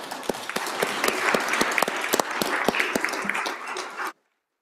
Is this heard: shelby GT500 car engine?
no